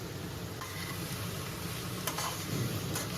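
Potato and pumpkin being stirred into frying vegetables in a pan for a Bengali mixed vegetable dish with prawns, giving a steady soft sizzle with a few scraping stirs, close and alone.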